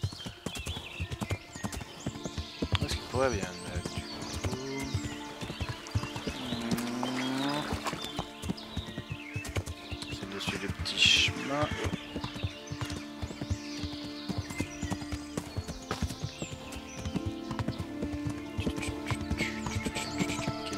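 Hooves of a horse splash and clop through shallow river water in the video game Kingdom Come Deliverance, a continuous rhythmic stream of wet hoof strikes over game music, with a short spoken line partway through.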